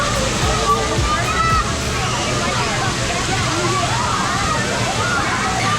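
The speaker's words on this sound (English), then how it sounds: "We literally just got soaked by that huge bucket" A giant tipping bucket at a water park dumps a steady roaring torrent of splashing water for several seconds, loud and close, with voices shouting faintly under the rush.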